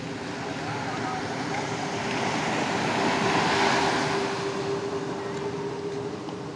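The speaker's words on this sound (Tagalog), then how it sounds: "Malalaki ang gulong ng dagat." Large sea waves break on a murky, rain-swollen shore in a continuous rushing roar that swells toward the middle and eases, mixed with wind buffeting the microphone.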